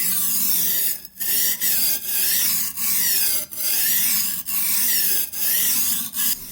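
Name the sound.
Shun chef's knife sharpened on King 250 grit waterstone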